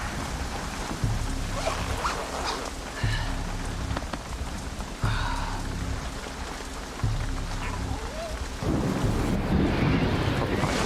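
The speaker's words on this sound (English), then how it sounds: "it was absolutely thundering down on the tent" Heavy rain pounds on a tent during a mountain thunderstorm, a dense close patter that surges in bursts, with low rumbles and wind buffeting the microphone.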